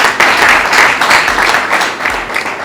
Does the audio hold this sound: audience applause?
yes